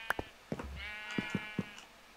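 Sheep in the video game Minecraft bleat several times in short, clear calls, fairly quiet and close, with no talking.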